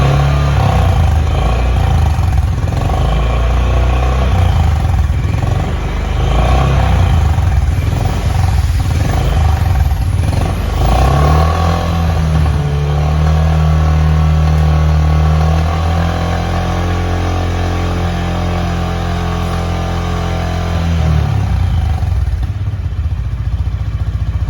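A Honda H'ness CB350 motorcycle engine idles steadily and loudly close by, with a deeper, smoother drone settling in partway through.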